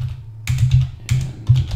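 Keys tapped on a computer keyboard in three short close bursts of clicks separated by brief pauses, with a faint low hum underneath and no speech.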